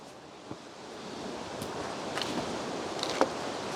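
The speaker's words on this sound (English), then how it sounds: "it's a bit windy too again" Wind blowing over lake water at a lakefront island property, a steady soft roar that slowly builds, with faint gusty swells and a few small clicks.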